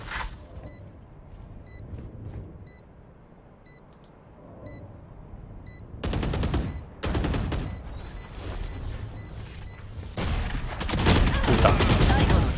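Rapid rifle bursts and fusillades ring out in a Valorant match, quiet at first with beeping interface tones, then loud close fire arriving in clusters through the second half.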